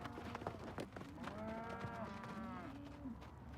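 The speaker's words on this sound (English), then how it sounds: "This cattle's kind of new, still getting used to having humans around." Young yearling cattle on a feedlot, recently switched from grass to corn, lowing in long drawn-out moos that rise and fall, with several animals overlapping amid a steady background of herd noise.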